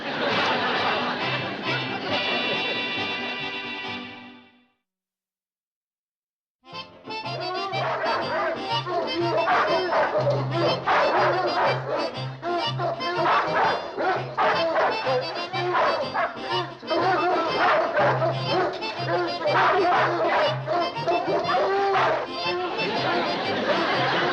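A dog barks and yips repeatedly amid lively chatter and other sounds, with a couple of seconds of silence near the start.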